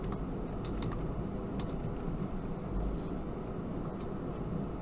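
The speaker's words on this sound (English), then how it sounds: "Maybe I just typed too fast." Keys clatter steadily on a computer keyboard in quick, uneven bursts of rapid strokes. The typing is close but quiet, with no voices.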